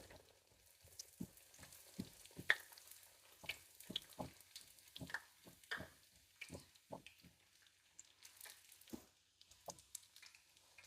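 Raj kachori frying in a kadai as oil is spooned over it: quiet, close sizzling bubbles with scattered soft crackles and light scraping taps, with no voices.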